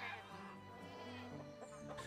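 Chickens clucking softly in a medieval farm setting in the Medieval Dynasty video game, faint intermittent clucks under a low background bed with someone talking.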